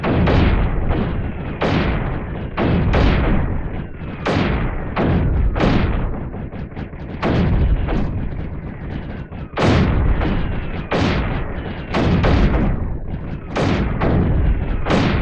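Mortars fire again and again in the strategy video game Creeper World 3, each shot a loud, punchy boom or thud at a fairly regular pace of roughly one per second, with no talking.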